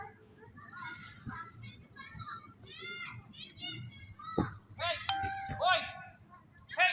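Children play at a summer playground, their voices and shouts continuous in the middle distance, with a football coach calling out and a chiming tone near the end; the whole scene is steady, busy and moderately loud.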